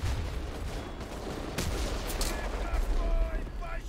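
Rapid gunfire crackles almost nonstop through a World War II video game battle at Stalingrad, with Soviet troops and tanks. Dense bursts and sharper volleys sit over a steady low rumble, and a voice is faintly present.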